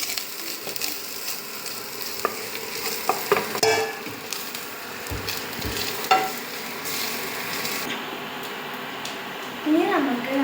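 Coconut tossed into a pan with onion, nuts and chili, stirred and frying with a steady low sizzle and occasional scraping clatter of the spoon, a voice speaking over it at times.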